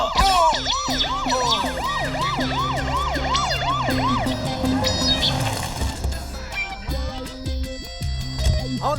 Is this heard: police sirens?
yes